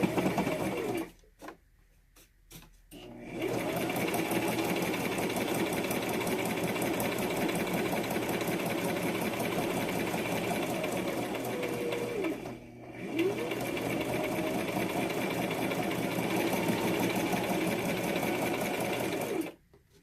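Sewing machine stitching through paper ephemera, running in long steady bursts with a rapid mechanical whir and brief pauses between runs, close and alone.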